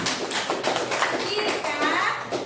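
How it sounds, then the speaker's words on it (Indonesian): Children clap together in an elementary classroom during a math lesson, a dense patter of many small hands close by, with kids' voices mixed in underneath. "Tepuk tangan dulu untuk Fikram."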